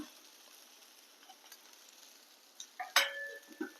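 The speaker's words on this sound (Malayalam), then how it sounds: "ഇതിൻ്റെ കൂടെ കുറച്ച് കരുവേപ്പില ഇട്ട് കൊടുക്കാം" Curry leaves dropped into a pan and stirred, a faint low sizzle at first, then a sharp crackling burst as they hit the hot oil, followed by a few light scraping stirs, close and without talk.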